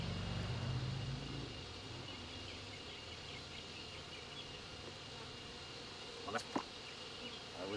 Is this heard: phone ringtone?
no